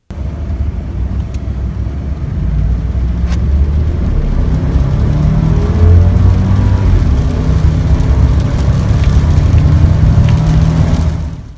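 A Dodge Durango with the 4.7-liter V8, rated 303 horsepower, accelerates hard with a loud, close, low engine roar that swells and holds steady before cutting off, with no voices.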